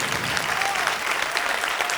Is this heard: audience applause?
yes